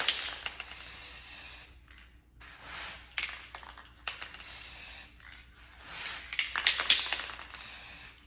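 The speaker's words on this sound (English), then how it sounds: "And as I'm spraying, I'm getting the rim as well." Spray paint hisses from an aerosol can into a clear glass vase in bursts, several short and longer sprays separated by brief pauses, close and fairly quiet.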